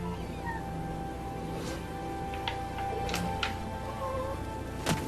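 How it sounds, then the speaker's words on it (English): A domestic cat answers with several short, faint meows spread over a few seconds, heard against a steady low background with no speech. "She tends to reply with meow herself."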